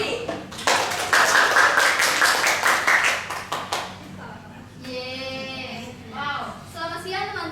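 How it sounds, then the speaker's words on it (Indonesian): A classroom audience claps for a student presenter, a burst of clapping that fades after a few seconds before a voice begins speaking. "Silakan beri tepuk tangan untuk Lili."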